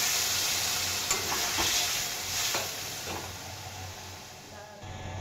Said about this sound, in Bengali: এখন আমি এর মধ্যে দিয়ে দেব জল।